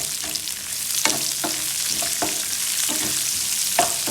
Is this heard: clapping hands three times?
no